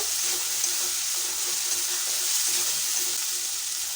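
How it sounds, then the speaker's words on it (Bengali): White mustard and green chili paste cooking in a hot frying pan makes a dense, even sizzle with soft stirring scrapes throughout, close and continuous with no voices. "এই সাদা সর্ষে আর কাঁচা লঙ্কা বাটা দিয়ে দেব সামান্য একটু নাড়াচাড়া করে নেব"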